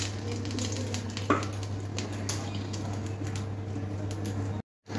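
A small amount of oil sizzles in a pan while cooking prawns and kolmi shak, a steady soft crackle with a brief clatter partway through before cutting to silence.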